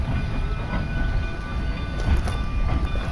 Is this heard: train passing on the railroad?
yes